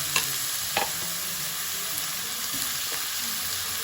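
Bottle gourd being stirred in a pot of payesh with bay leaves and cardamom, a steady close sizzling hiss broken by a few soft scraping strokes of the spoon, no voices.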